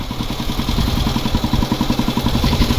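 A 60-year-old Royal Enfield Bullet motorcycle's single-cylinder engine thumps in a steady, rapid rhythm close by, its low beat continuous and loud throughout with no talking.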